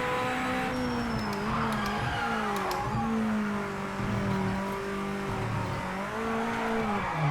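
A hypercar from the racing game Project Motor Racing howls steadily up and down through the revs, with sharp rises and dips as gears change and a brief tire squeal, loud and up close without talk.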